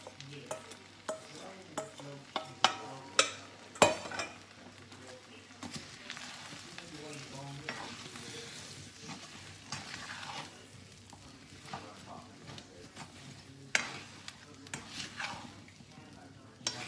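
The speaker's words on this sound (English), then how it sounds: "So we'll bring our okra to the stove and put them in the pan where the onions have been frying" Okra and onions frying in a pan, a soft steady sizzle punctuated by sharp clicks and scrapes of stirring, with a voice speaking quietly at times.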